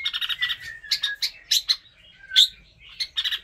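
Birds on a bird farm chirp in quick, close bursts of bright tweets with a few longer whistled notes, loud and clear with no talk over them.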